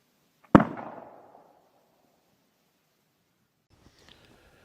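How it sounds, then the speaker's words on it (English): A quality flintlock gun primed with 2F powder fires once in a sharp, close crack that rings out and decays over about half a second, followed by quiet and faint small clicks and rustles. "This is how that gun fires every single time I pull the trigger."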